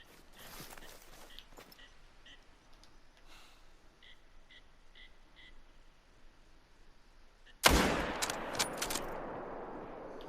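A single loud 308 bolt-action rifle shot at a whitetail buck in a hunting video game, breaking sharply after quiet ambient sounds with faint bird calls, then a ringing decay.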